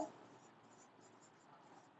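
Pen or pencil writing an answer by hand on paper during a geometry lesson, a soft continuous scratching that runs steadily for about two seconds, close and quiet.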